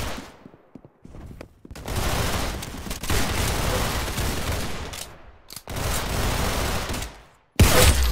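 Repeated bursts of automatic gunfire in the Roblox shooter Arsenal on an aircraft map, long rapid volleys separated by short pauses, loud and close, with a final abrupt burst at the end.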